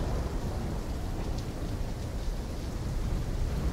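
Heavy rain pours steadily over a deep rumbling roll of thunder during a storm in the video game Call of Duty: Black Ops III, a dense continuous wash with no voices.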